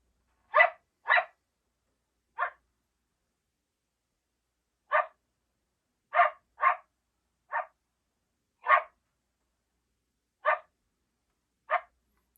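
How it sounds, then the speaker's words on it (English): Sharp, isolated female coyote barks played from a predator game call, irregularly spaced with clear silences between them, fairly loud and close against a quiet background. "Female Coyote Barks."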